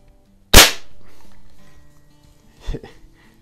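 A Crosman model 180 .22 caliber CO2 pellet rifle fires a single sharp, loud crack with a short decaying tail, followed about two seconds later by a faint thud of the pellet hitting its target.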